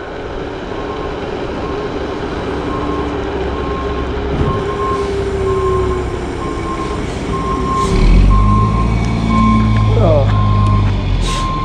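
A garbage truck picking up a dumpster sounds its reversing alarm, a steady series of evenly spaced beeps over heavy engine rumble, with street noise and a brief voice nearby.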